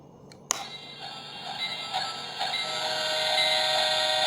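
A baby's sound puzzle toy plays a recorded train sound after a sharp click as the piece is set back in place, a steady hissing, whistle-like tone that swells and holds, thin and electronic, with no talk.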